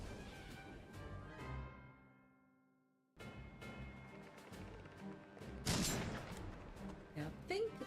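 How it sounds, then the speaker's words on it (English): Cannons and gunfire in the video game Pumpkin Jack: a string of sharp booms and shots, a ringing decay into near silence, then a renewed burst of loud blasts and impacts over game music. "They hurry to follow the sounds of cannons and gunfire to find a city at war"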